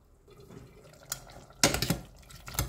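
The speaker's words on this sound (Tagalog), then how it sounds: "So ayan, nag-add tayo ng tubig." Water splashes into a pot of meatballs and potatoes in a few quick, close pours and bursts, louder toward the end, with no voice.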